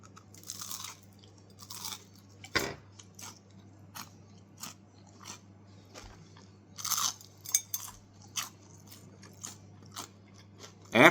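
Raw cauliflower floret from a home vegetable garden being bitten and chewed close up, giving repeated sharp crunches and crackly chewing bursts over about eleven seconds with no talking.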